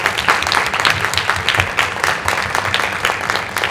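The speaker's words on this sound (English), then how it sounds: "Get a round of applause for our CPAC." At a school committee meeting, the room applauds the CPAC in a dense, fairly loud round of clapping that holds steady throughout, with a low murmur of voices beneath.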